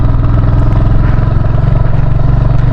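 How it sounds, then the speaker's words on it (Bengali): A Royal Enfield Hunter 350 motorcycle climbs a steep zigzag mountain road from Siliguri toward Darjeeling in low gear, its loud, close engine thumping steadily with a rough, pulsing mid-range drone and wind noise throughout. "ফার্স্ট গিয়ার সেকেন্ড গিয়ারের বেশি তোলাই যাবে না"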